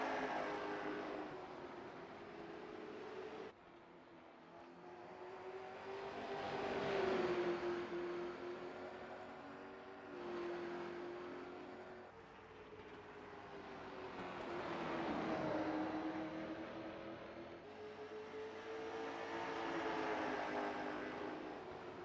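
Late model race cars at Myrtle Beach, engines droning and rising and falling in pitch as the cars sweep past and circle the track, heard from a distance without talk.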